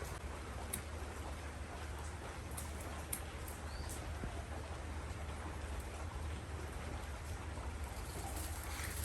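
Steady rain falls on a rainy day at an outdoor cooking spot with a portable clay stove, a dense, even hiss with occasional louder drops, continuous and close around the listener, with no one talking.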